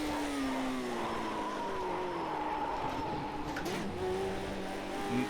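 A Lotus 72D race car in Project CARS 2 brakes at the classic British Grand Prix circuit. Its engine note winds down steadily under a constant rush of road and tyre noise, with a faint squeal near the end.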